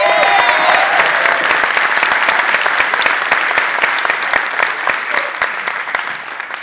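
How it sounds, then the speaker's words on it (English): Audience applause welcoming a lecturer at a talk, a full, sustained round of clapping from a sizable crowd that stays strong and fades only slightly toward the end, with a brief whistle near the start. "So let's have a big round of applause for Jim Gilligan."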